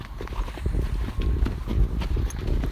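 Horse hooves clip-clop steadily at a barn, a run of close, dull thuds with uneven rhythm over low rumbling background noise.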